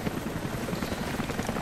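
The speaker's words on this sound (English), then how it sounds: "Oh, helicopter." Helicopter flying in the video game Rise of the Tomb Raider, a faint, steady rotor drone with a low fluttering pulse, heard on its own without speech.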